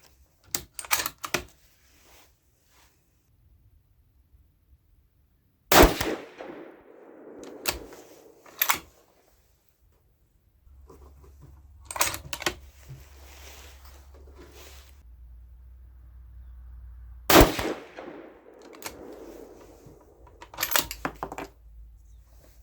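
A rifle chambered in 6mm ARC firing Hornady 65gr V-MAX rounds, several sharp loud shots spaced seconds apart, each followed by a brief rumbling echo, with bolt clicks and handling noises between and no speech.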